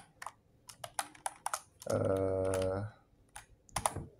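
Typing on a USB keyboard plugged into a phone to code in the Termux app, scattered key clicks broken by a sustained tonal sound in the middle, with faint voice nearby.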